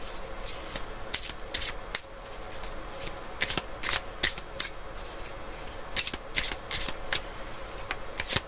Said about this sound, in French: on va faire un petit tirage, je pense plus avec Jack.